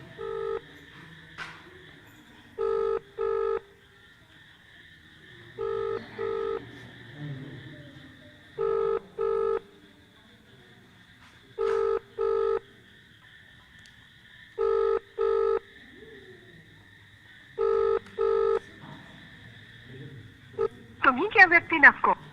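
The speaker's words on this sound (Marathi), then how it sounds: "आपण बघतोय ह्या अधिकाऱ्यांनी फोन उचलला नाही आपण पुन्हा एकदा त्यांना फोन करण्याचा प्रयत्न करणार आहोत" A phone call to an official rings unanswered, with seven evenly spaced double-burst ringback tones over a quiet line, and a voice starts just at the end.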